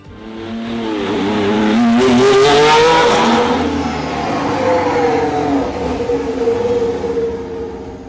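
The Haas VF-24 Formula 1 car runs during its shakedown at Silverstone, its engine roaring loudly and steadily with a rising then easing pitch as it passes, no talk over it.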